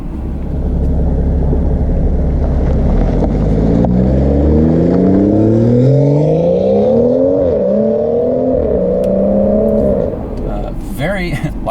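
A modified 2018 BMW 340i in comfort mode pulls away from inside the cabin, its engine drone climbing in pitch through several gear changes, fairly subdued and steady, with a brief voice near the end.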